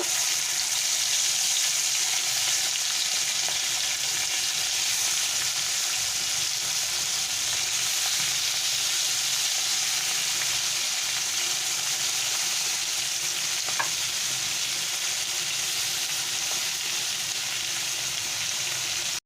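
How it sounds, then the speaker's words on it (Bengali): Marinated prawns fry in oil in a wok as a Bengali coconut prawn dish is cooked, giving a steady, loud hiss of sizzling that runs unbroken the whole time, with only a faint clink now and then. "কড়াইতে তেল দিয়ে দিয়েছি মাছগুলো আমি ভেজে নেব"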